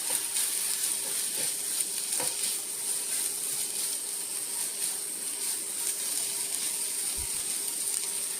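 Plantain pieces sautéing with grated coconut in a pan, a steady soft sizzle running throughout with occasional faint stirring taps, no voices.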